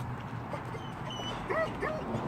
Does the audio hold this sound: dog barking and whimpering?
yes